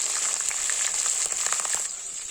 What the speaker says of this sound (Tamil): இப்போ பச்சை மிளகாய் கருவேப்பிலையும் சேர்த்துக்கலாம்.